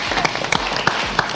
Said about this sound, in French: On va applaudir pour Nestlé Burkina,